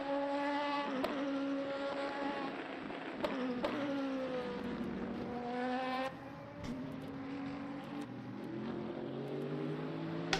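Race cars, including BMWs, driving at Imola in the video game Le Mans Ultimate, heard as a quiet, steady engine whine with pitch rising and falling through gear changes.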